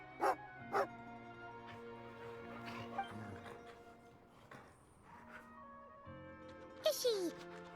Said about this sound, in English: This must be one of Alocia's dogs!